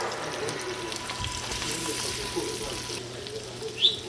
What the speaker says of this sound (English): so now it's sizzling, so let's go ahead and put some onions in here